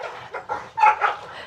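A dog gives a quick burst of short yips and barks, close and fairly loud, four or five clipped calls with a whiny edge packed into a moment.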